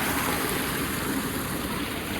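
Water flows steadily along an irrigation channel that circles a grove of date palms in Madina. The flow makes a constant rushing, bubbling wash and is heard alone.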